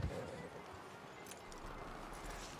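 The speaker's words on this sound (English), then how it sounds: "So we're going to hitch our horse here to this tree." Horse hooves clip-clopping in Red Dead Redemption 2, a faint steady patter of hoofbeats running under low ambient noise throughout, with a soft thump at the start.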